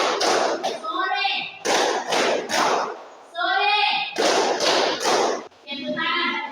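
Children in an elementary school classroom clap in short rhythmic bursts as part of a clapping game, the sharp hand claps alternating with a teacher's voice speaking between them.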